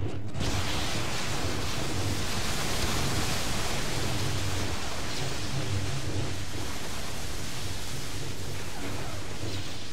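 Force Lightning in the Star Wars Battlefront 2 video game crackles as a loud, dense, continuous electric buzz with rumbling undertones, running unbroken at full strength throughout.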